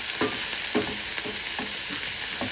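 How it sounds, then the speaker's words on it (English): Onions sauté in a pan with a steady, loud sizzle, while a utensil scrapes and stirs them in regular strokes roughly every half second. Nobody speaks. "We're going to saute this until it's soft."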